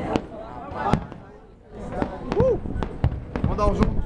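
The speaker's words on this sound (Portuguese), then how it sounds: "Vamos dar um zoom nos fogos." New Year's Eve fireworks at Praia do Forte, Bahia, seen from a rooftop: sharp pops and booms burst at irregular intervals, some near and some distant, while people talk and a whistle rises in between.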